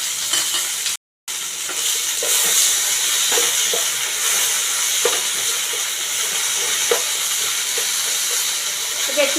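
Okra, potato, whole red chillies and chopped tomato fry in a pan, giving a steady, close sizzle with occasional stirring scrapes and soft pops throughout.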